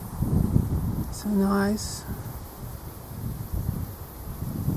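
Wind blows outdoors around a patch of alkali sida plants, a steady broadband rush with gusts swelling and easing against the microphone, while a person briefly speaks partway through.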